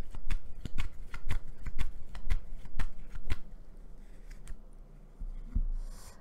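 A deck of tarot cards is shuffled close by in quick riffling bursts, then a softer pause and a final shuffle.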